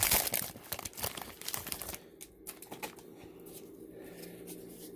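Foil wrappers on 2018-19 Donruss Basketball jumbo card packs are ripped open up close: loud crinkling and tearing bursts for a couple of seconds, then softer rustling and a few faint crackles.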